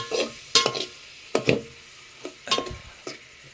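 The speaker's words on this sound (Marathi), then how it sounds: "तेल टाकलं आहे तर थोडा टाईम ना गरम करत ठेवूया त्याल मस्तपैकी तापवून दे नंतर ना फायनली कांदू टाकला आहे" Chopped onion fries in hot oil in a home kitchen pan, a soft sizzle broken by several sharp clinks and scrapes of a spoon stirring, close and with no voices.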